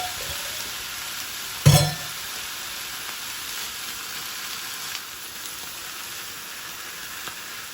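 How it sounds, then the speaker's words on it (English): Corned beef and sauerkraut heat on a grill with a soft, steady sizzle, broken by one brief louder clatter near the start and a few faint ticks later; no one speaks. "And we're gonna do the same thing with the sauerkraut. We're just gonna heat it up."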